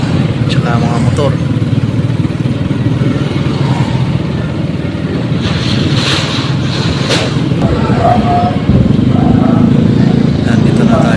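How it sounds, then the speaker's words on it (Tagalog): Tricycles and motorcycles rumble through stop-and-go town traffic near a stoplight in Naic, heard from a moving vehicle as a continuous engine drone with wind buffeting the microphone and occasional louder passing engines. "Maraming mga tricycle tsaka mga motor."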